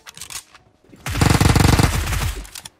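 A rapid burst of machine-gun fire in the video game BGMI lasting about a second, loud and close, preceded and followed by a few sharper single shots.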